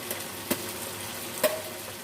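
Spice masala for kaleji being stirred in a pan, a soft background sizzle with three distinct scraping knocks of a spoon against the pan, fairly quiet and close.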